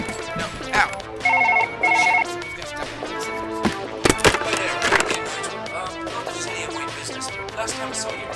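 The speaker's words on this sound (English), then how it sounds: "Phone." Telephone in the Surgeon Simulator video game ringing in two short electronic bursts, followed by clattering game sounds and busy mixed noise.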